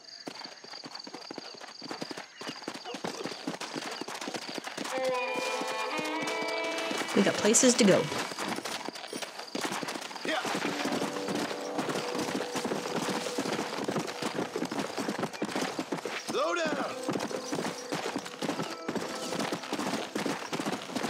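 Horse in the video game Red Dead Redemption, its hooves clip-clopping at a steady walking rhythm with a brief whinny partway through, while someone speaks a short line over the game sound.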